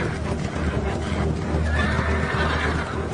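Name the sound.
horses neighing, sound effect in Bible reading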